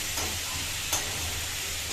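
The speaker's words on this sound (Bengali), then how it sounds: "রান্না করতে বসেছি যে ফুলকপি আলু পেঁয়াজ ভাজা" Cauliflower, potato and onion frying in a pan: a steady, close sizzle and hiss with light stirring scrapes throughout.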